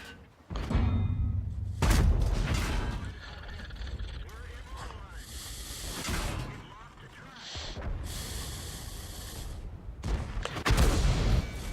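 Artillery fire in World of Tanks booms in heavy bursts, with loud blasts and rumbling roars rising and fading across the stretch.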